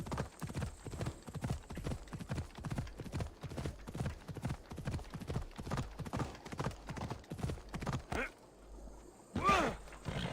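A horse's hooves clip-clop in a steady, brisk rhythm in the video game Assassin's Creed Odyssey, close and clear for about eight seconds, then stop, followed by a short whinny-like call.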